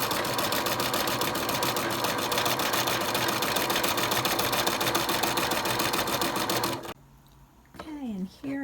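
A sewing machine stitches lace onto a rolled and whipped hem, a fast, steady mechanical whirr close by for about seven seconds, then stops as a voice speaks briefly.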